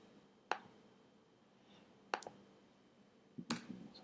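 A few separate sharp clicks spaced well apart, like individual keystrokes on a computer keyboard while a terminal command is entered, quiet and close with no talking.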